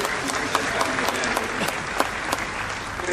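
An audience at a national press day ceremony applauds, a dense and steady burst of clapping from a large crowd that runs loud and unbroken throughout.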